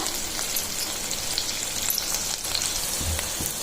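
Onions fry in oil for a beetroot palya, giving a continuous bright crackling sizzle heard up close, alone and steady throughout the short stretch.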